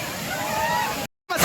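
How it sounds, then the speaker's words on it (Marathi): Heavy monsoon water pours at the Malangad waterfall in a close, sloshing rush for about a second, then cuts out briefly before returning louder, with voices around. "धबधब्याचा प्रवाह जास्त आहे."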